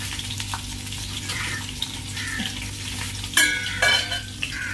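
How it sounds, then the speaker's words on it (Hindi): Stuffed eggplant cooking covered over low heat, a quiet steady hiss and gentle bubbling, then two brief clinks of the pot and lid near the end, with no talk. "धीमी आंच पर पकने देना है इसको, बिल्कुल जब तक हमारे बैंगल पक रहे हैं"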